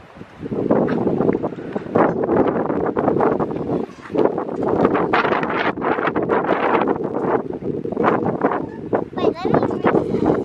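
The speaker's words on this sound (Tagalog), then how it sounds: "Mahangin eh." Strong wind blows outdoors in the Philippines, with steady gusting rumble and microphone buffeting throughout, loud and close, while people talk faintly underneath.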